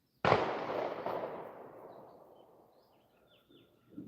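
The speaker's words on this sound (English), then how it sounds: "I don't know if y'all heard that gunshot." A single gunshot fired somewhere down a river, a sharp crack followed by a long rolling echo that fades over several seconds, with faint bird calls in the background.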